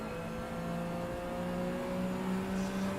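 A race car engine in the Assetto Corsa sim racing game drones steadily at high revs, loud and constant with a faint whir, with no voices.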